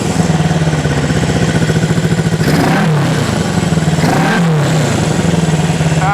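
A 1974 Honda CB360 motorcycle engine in poor condition, loud and close, idling with a throbbing putter, then two quick revs that rise and fall back to idle.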